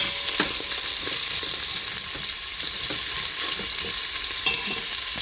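Beef browns in a pan with a continuous close sizzle, while a utensil scrapes and stirs it in repeated irregular strokes; no talking.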